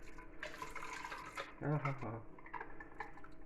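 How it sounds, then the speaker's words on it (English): Hot water from a pan of sterilising lids is poured into jars of whole strawberry jam, giving a short splashing trickle in a kitchen beneath a talking voice. "So we won't waste the water from the sterilising lids. We'll pour that into there"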